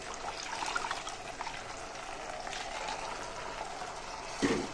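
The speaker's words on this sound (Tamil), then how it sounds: "தண்ணி விட்டு சேர்த்துக்கணும்." Water is poured and stirred into a pot of hotel-style tiffin sambar on the stove, giving a steady close liquid sloshing and bubbling with a brief louder splash near the end, and no talk.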